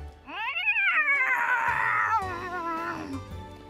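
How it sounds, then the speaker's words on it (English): A cat in the visual novel The Fruit of Grisaia lets out a single long, loud, disgruntled meow that swoops up and then trails down, close and clear with a slight tonal wobble. "it lets out a single disgruntled meow"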